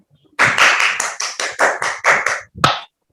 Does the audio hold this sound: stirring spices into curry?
no